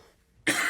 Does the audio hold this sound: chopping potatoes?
no